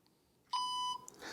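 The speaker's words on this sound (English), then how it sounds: "We get an audio beep letting us know that it is turned on" A single clear electronic beep, steady and fairly loud, lasting under half a second before fading back to quiet.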